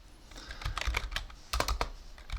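A command is typed on a computer keyboard, with close, quick irregular clicking keystrokes in two bursts separated by a brief pause, and no talking.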